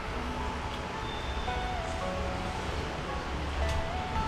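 Rain falling in Kathmandu, a steady wash of hiss and patter that fills the whole stretch at moderate level with no clear voices.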